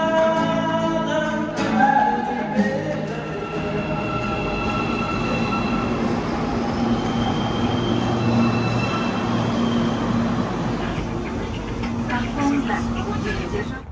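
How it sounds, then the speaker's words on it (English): An 11-station, single-line subway train in Almaty, Kazakhstan, opened in 2011, rumbles steadily through the whole stretch with a broad low roar and faint squealing overtones. Background voices murmur now and then. "the city even has a subway, although it's just 11 stations in one line"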